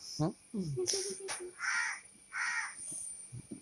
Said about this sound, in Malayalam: പുറത്തൊരു കാക്ക മുരളിക്കുന്നുണ്ട്